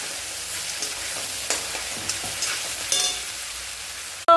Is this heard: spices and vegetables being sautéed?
yes